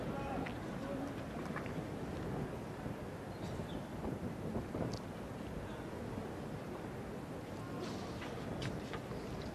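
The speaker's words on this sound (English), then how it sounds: "Breezy day in Melbourne." Wind at an outdoor tennis court in Melbourne on the coast, a constant broadband rumble and rush buffeting the microphone for the whole stretch, with faint scattered sounds in the background.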